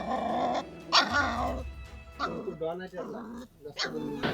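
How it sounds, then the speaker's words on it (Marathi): Small puppies at Balapur fort yip and bark in short bursts with some whimpering, close by, while people talk over and around them. "या किल्ल्यावर नाही का कुत्र्याचे पिल्ले सापडले आहेत छोटे छोटे"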